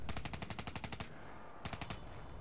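Automatic gunfire from a video game gun, a rapid burst of about a dozen shots, a short pause, then a second shorter burst, loud and close.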